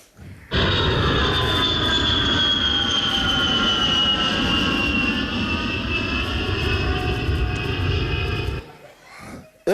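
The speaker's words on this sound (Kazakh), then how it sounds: "біз дәл қазір Түркістан әуежайына сәтті қондық" A steady, loud roar of jet airliner engines during a landing at Turkistan airport, sustained almost unbroken for about eight seconds, with high whining tones and rumble, then cutting off abruptly.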